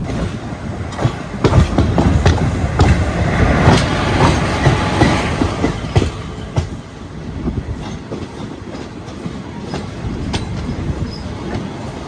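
The Chennai–Mangalore Mail passenger train rumbles along the rails close by, with rhythmic clickety-clack of wheels over joints and occasional metallic squeals, loud and continuous.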